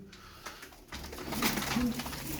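Pigeons coo softly nearby, low throaty calls over a rustling background with faint fluttering.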